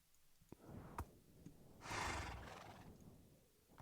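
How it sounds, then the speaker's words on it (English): A horse in a video game gives a loud whinny with breathy snorts around it, preceded by a few sharp clicks, heard alone without talk. "this horse is just like confused about everything"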